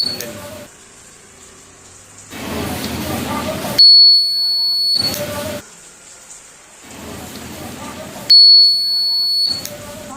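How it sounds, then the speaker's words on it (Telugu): A homemade motion-sensor security alarm sounds in two bursts, each a sharp electronic high-pitched beeping tone that starts abruptly and stops after about a second, set between stretches of close-up voice and handling noise. "మళ్ళీ ఇప్పుడు నేను బయటకు వస్తాను, అలారం సౌండ్ వస్తుంది చూడండి."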